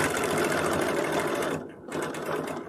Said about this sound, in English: so I'm just going to sew down there